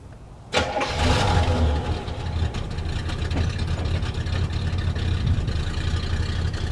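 A classic Oldsmobile Delta 88 engine cranks and catches with a sudden loud start, then settles into a steady, close, rumbling idle that continues without a break.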